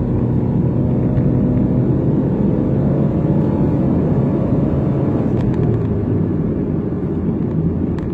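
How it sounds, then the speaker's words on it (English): A car with a CVT accelerates hard in sport mode, its engine drone steady and loud inside the cabin, holding a continuous low rumble throughout without clear rises in pitch. "Let's see what happens when I put it in sport and accelerate a bit hard."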